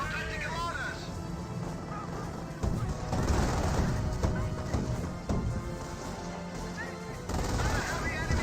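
Rifle fire in Company of Heroes 1 during a World War II battle against an AT Hetzer, repeated sharp cracks and bursts over dense combat noise and music, with commentary running throughout.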